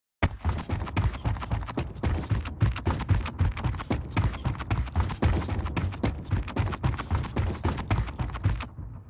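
A first-person roadie run animation in a video game plays rapid, evenly spaced footstep sound cues that patter steadily and close for several seconds without any talking.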